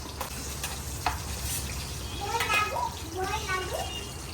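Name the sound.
tangra fish frying and popping in a pan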